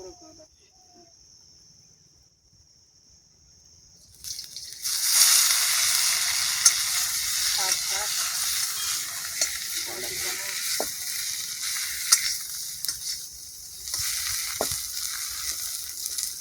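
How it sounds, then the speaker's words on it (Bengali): Chow mein noodles drop into hot oil, bursting into a loud, steady sizzle with stirring scrapes and occasional clinks, close by; before that, a quiet stretch and a faint tone, and a voice talks briefly over the frying. "তেল গরম হয়ে গেছে রানি ভাই আমাদের চলো চাউমিনটা দিয়ে দিই।"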